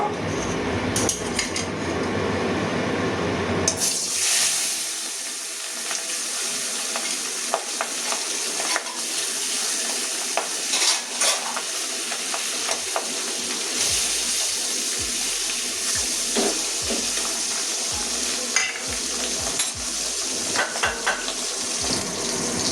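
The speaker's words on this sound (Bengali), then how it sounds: "তেল গরম হয়ে গেছে, এবারে মাছটা ভেজে নেব।" Katla fish frying in hot oil for a spicy katla curry with ash gourd and mango: after a few quiet seconds a loud, steady close-up sizzle sets in, dotted with sharp crackles and spatula clinks, with no talking.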